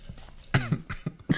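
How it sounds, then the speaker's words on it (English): A man gives a single harsh cough followed by a few quicker rasping hacks, loud and close to the microphone, lasting just over a second. "His cough goes crazy."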